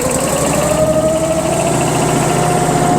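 A woodyard conveyor's engine idles steadily through a freshly repaired muffler, a loud, even drone with a constant hum and no voices.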